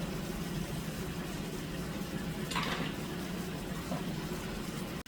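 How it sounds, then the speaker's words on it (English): Chopped carrots are tossed into a cooking pot for a Yankee pot roast, making one short rattling clatter midway through a steady kitchen background hiss. "Next up, I throw my carrots."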